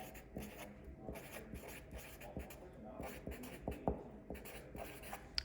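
Words handwritten on paper during a modelled writing lesson: steady, close scratching strokes with small taps and pauses between letters, running through the whole stretch.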